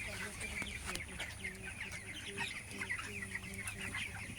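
Chickens on a poultry farm cluck and chatter in short, repeated bursts, a close, busy flock sound that stays steady throughout.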